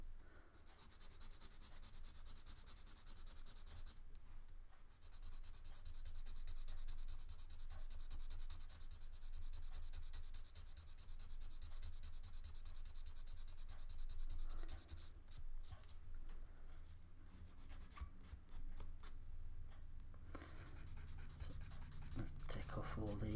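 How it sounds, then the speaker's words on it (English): Continuous scratchy rubbing of a sanding stick on hard plastic, removing sprue remnants from a 1/35 scale Sherman tank model kit part, steady strokes for a long stretch, close up, with brief pauses. "swipe with a sanding stick."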